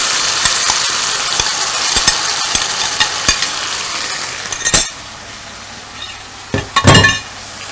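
Minced meat qeema cooking in a pan for dum ka qeema, a steady close sizzle with a few sharp clinks of a utensil against the pan and brief louder stirring bursts near the end.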